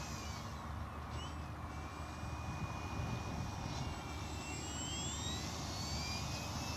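An RC foam L-13 Blanik glider, 1.5 m electric-powered, flies tight passes with its motor on, giving a thin, steady whine that rises and falls in pitch as it passes, faint and distant outdoors.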